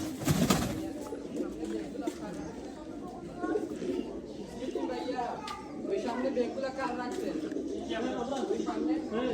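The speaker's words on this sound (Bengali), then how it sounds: "এটা হচ্ছে আরো জাতের কবুতর, হচ্ছে ইংলিশ ফ্যান্টেল কবুতর" Several breeds of pigeon, among them English fantails, cooing in enclosures at a bird park and eco village: soft, steady murmuring coos run throughout while people talk nearby.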